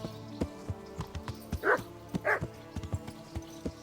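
A dog barks twice in the medieval role-playing game Kingdom Come: Deliverance, two short, moderately loud barks over a busy bed of clip-clopping hooves and game ambience.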